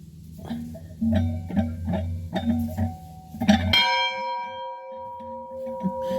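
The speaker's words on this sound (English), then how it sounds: "There's the bell right there." A bell at a historical village in Richmond, Michigan rings in a steady rhythm of repeated strikes, then one final stroke rings out and its tone lingers and fades.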